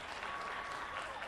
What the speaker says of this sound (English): A little tough to hear you with all the screaming there, Alan.